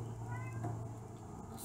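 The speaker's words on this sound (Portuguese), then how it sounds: "E o gato fica miando, querendo entrar no orquidário." A cat meows in an orchid greenhouse, its cries drawn out and moderately close, with quiet background noise.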